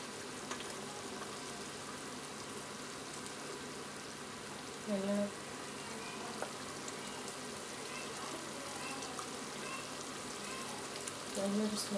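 Mussel pickle mixture with vinegar and salt coming to a boil in a pan gives a steady, soft bubbling hiss throughout, with a couple of brief clinks partway through.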